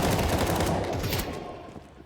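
Dense, loud rapid gunfire in a Counter-Strike esports match at a major tournament, with a rattling volley of shots that fades slightly toward the end.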